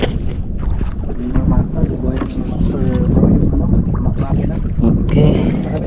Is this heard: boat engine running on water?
yes